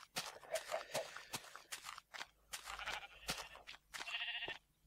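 Video-game sheep bleat in short repeated calls among scattered soft footsteps and clicks, fairly faint and intermittent.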